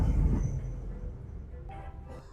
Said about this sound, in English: it's really fun to see the train ride by here, as we will see any second now